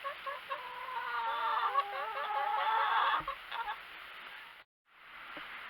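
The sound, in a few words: chickens clucking in a chicken pen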